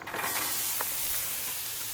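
Onions hit a hot Blackstone griddle at nearly 500 degrees, giving a soft, steady hiss of sizzling that stays faint and even throughout.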